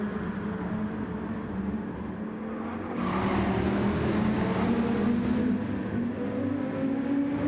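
Race cars lap Mount Panorama along the Conrad Straight in a racing video game, a steady close engine drone whose pitch climbs slowly as the cars accelerate, with a louder surge of wind and road noise partway through.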